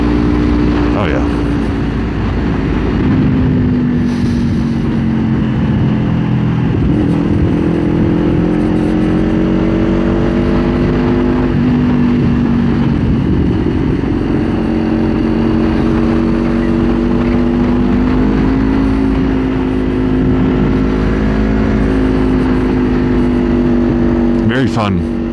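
A 2024 Kawasaki Ninja 500 motorcycle rides through turns, its engine droning steadily close by with small shifts in pitch as the throttle rises and eases, along with constant wind rush.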